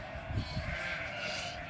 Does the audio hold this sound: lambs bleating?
yes